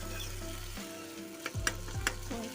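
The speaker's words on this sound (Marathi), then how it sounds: "टोमॅटो टाकलं आहे एकच आणि खालवर करून परतून घ्यायचं." Tomato and onion sautéing in oil for a brinjal curry, with a steady close sizzle under a low hum and a few sharp scraping stirs near the end.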